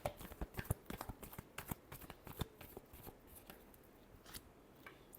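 Tarot cards are shuffled quietly at close range in rapid, irregular papery riffles and taps that continue for several seconds with no talking.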